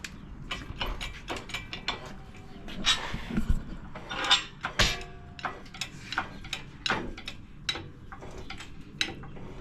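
Chain on an engine hoist slipping and clicking while it lifts a 454 big-block engine, with a close series of irregular metallic ratcheting ticks and rattles and no speech.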